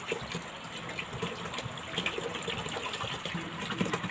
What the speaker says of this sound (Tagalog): ibuhos nyo na ang 3 litrong isopropyl alcohol